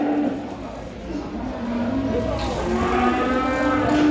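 A bull calf moos several times at a Korean cattle auction market, the lowing calls loud and drawn out over a steady murmur of crowd noise and auction hall bustle.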